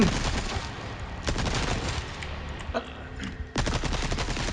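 Gunfire in the video game Resident Evil 4, a rapid burst of shots followed by scattered single reports and a renewed loud volley near the end, with a voice talking faintly underneath.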